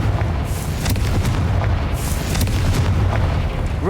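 Confringo blasting curse in Hogwarts Legacy sets off a deep, rumbling explosive boom that rolls steadily through the moment, loud and full, with no voices over it.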